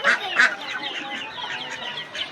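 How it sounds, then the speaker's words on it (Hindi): Desi roosters and hens cluck in a close, busy chorus, with two louder squawks near the start over steady overlapping chatter. "इनमें ज़्यादातर मुर्गे हैं"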